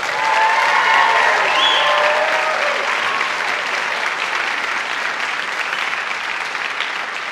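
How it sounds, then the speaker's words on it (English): Dense, loud applause from the audience at a high school fall orchestra concert, a continuous wash of clapping that fills the space evenly and tapers only slightly over several seconds. "Can we just do one more round of applause for everybody?"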